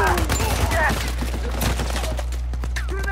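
Chaotic Uncharted 4 combat with a grenade going off amid rapid clattering gunfire and sharp impacts, dense and loud over a steady low hum, with faint voices mixed in.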